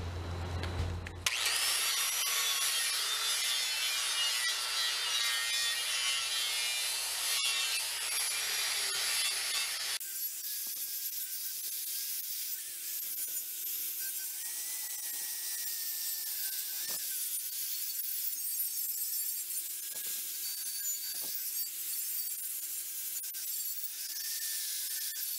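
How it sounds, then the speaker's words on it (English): A grinder works the metal of a backhoe bucket, a loud, continuous high whine with a long steady scraping stretch, then a lower, rougher grind later, running alone without talk. "Let's go get a grinder. We'll at least kind of prep the metal."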